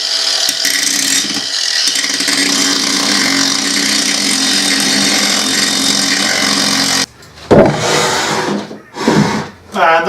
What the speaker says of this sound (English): So this is a Ryobi 18 volt grinder, and this is awesome for the job.